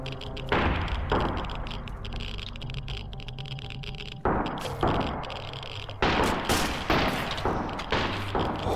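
Sniper rifle gunfire in the survival game Sunkenland: loud, sharp shots in an irregular series, some close together and others spaced a second or more apart, each leaving a booming tail, with no talk over them.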